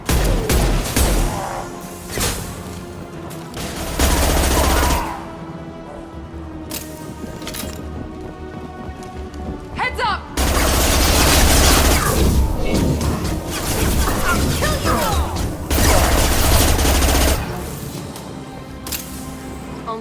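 Gunfire in the video game Mass Effect 2: loud bursts of weapon fire and crashing impacts come in repeated waves, with heavy low booms and a couple of brief quieter gaps between volleys.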